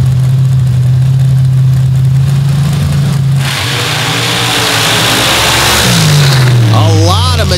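An 878 cubic inch aluminum block Chevrolet drag engine at a drag race roars loud and close, holding a steady rumble before surging into a sharp rev that then drops and climbs again, with voices talking over it.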